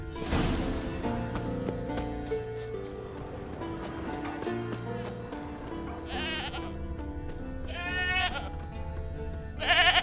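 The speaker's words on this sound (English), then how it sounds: "Can't smell Eskel, but there is the goat" A goat in The Witcher 3 bleats several times in wavering, nasal cries, heard over steady game music with hoof clip-clop in the background.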